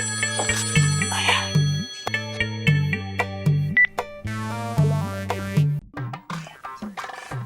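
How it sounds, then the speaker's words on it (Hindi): A mobile phone rings close by with a repeating electronic melody, looping several times in loud, steady phrases with no one speaking over it. "ओबे सोनू का फोन आ रहा है, पर उठाऊं कैसे?"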